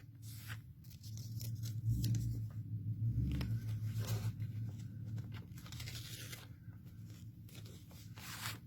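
Adhesive tape is pulled and torn close up to hold quilt batting on an embroidery hoop, giving soft ripping and crinkling strokes over a quiet hum.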